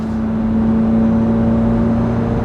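A 670-horsepower Chevrolet Corvette C8 Z06 engine holds a steady, loud, close droning note with an even tonal hum and no talking.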